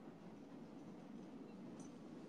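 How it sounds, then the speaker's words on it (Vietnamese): A train rumbles past at a distance, a steady low, faint roar of rolling wagons with no distinct clacks or voices. "Thấy xe lửa chạy không?"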